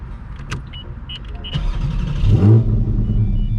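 Porsche GT4 engine with race headers and straight exhaust, revved in an enclosed space to about 6,000 rpm, rising into a loud sustained roar after a few faint mechanical clicks.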